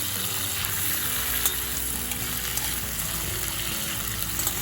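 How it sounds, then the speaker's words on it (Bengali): Cauliflower, flat beans and potatoes fry in a pan for a Bengali mixed vegetable dish, giving a continuous close sizzle with faint stirring ticks and no talking. "এবার আমার কেটে রাখা ফুলকপি, শিম আর আলু দিয়ে দিলাম।"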